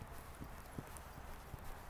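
Horse hooves clip-clopping at an even walking rhythm under a rider during a riding lesson, soft and fairly distant over steady background noise.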